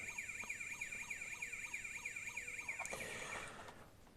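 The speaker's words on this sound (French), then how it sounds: "La sirène." Siren of a toy Dodge Charger police car, a thin electronic wailing tone cycling rapidly up and down in an even rhythm for about three seconds before cutting off, fairly faint with no talking.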